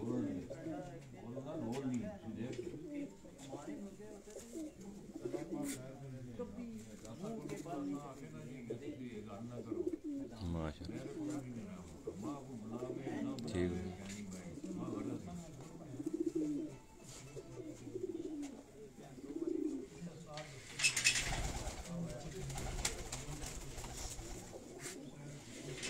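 Pigeons coo on a rooftop in Hussain Abad, Islamabad, a close, repeated stream of soft throaty coos that runs throughout, with someone talking over them and a short burst of wing flapping near the end.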